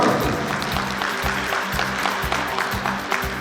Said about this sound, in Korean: 박수 한번 부탁드립니다